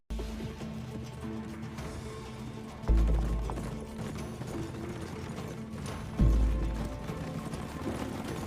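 Hoofbeats of a horse galloping fast through a forest, a steady clattering rhythm carrying across the whole stretch, with two heavy low thumps partway through and a busy mechanical texture underneath.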